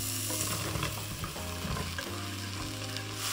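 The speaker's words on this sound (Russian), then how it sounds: "отправляем обжариваться лук и грибы одновременно" Onions and mushrooms fry together in hot oil in a multicooker, giving a steady close sizzle with occasional stirring scrapes and a constant low appliance hum underneath.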